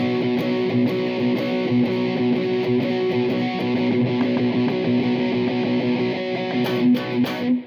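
A distorted electric guitar plays a riff of sustained, ringing notes, steady and fairly loud, with no one talking.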